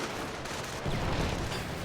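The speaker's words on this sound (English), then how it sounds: "There's another explosion." Muffled battlefield explosions and gunfire rumble from a World War II real-time strategy game, a steady dense roar with a heavier blast swelling midway, no talk over it.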